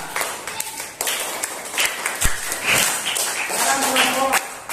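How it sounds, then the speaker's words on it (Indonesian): Students clap in a classroom during a physical education lesson, scattered uneven claps with a brief sharp tap, while voices talk over the clapping. "Tepuk tangannya mana?"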